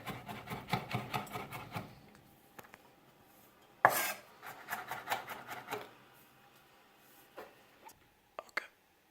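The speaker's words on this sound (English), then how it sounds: "So we're going to roughly chop our garlic." A knife roughly chopping garlic cloves on a board, a quick run of close, crisp cutting taps, a pause, a sharp knock, then another flurry of chops and a few scattered final strikes.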